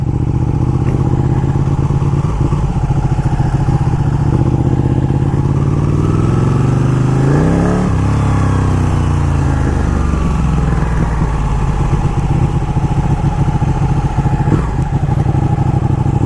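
A 200hp V-twin superbike engine revs loudly and continuously while riding, its pitch climbing and falling in a sweep about halfway through, with a steady rough rumble throughout.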